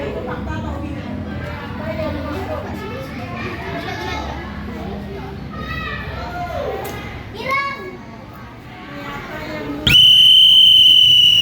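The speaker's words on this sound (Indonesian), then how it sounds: "Cuma tampilnya dulu nunggu peluit." A sharp, loud whistle blast cuts in near the end of a busy classroom scene, following a stretch of children chattering and playing in the background.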